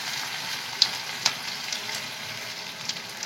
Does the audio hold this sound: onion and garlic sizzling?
yes